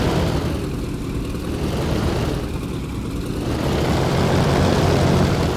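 Propeller plane engine in DCS throttling up while taxiing, a steady loud broadband drone with low rumble that swells in the last seconds, with no talk over it.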